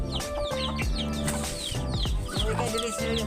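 Chickens clucking in a short burst amid busy background noise, with a voice speaking over them.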